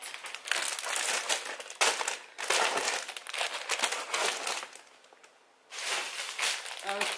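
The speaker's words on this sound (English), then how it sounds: "Anybody else's like ice machine like obnoxiously loud?" A loud ice machine churns and clatters out ice in harsh, crunching bursts that come and go over several seconds, with a brief quieter gap before the noise resumes.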